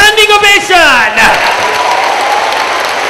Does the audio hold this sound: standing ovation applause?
yes